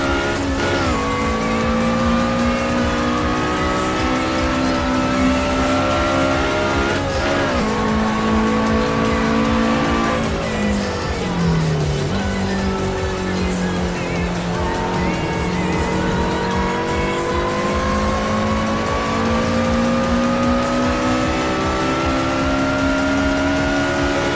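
A race car in Assetto Corsa on PC screams at high revs, the pitch climbing and dropping through gear changes, with tire squeal and skidding as it corners, loud and continuous throughout.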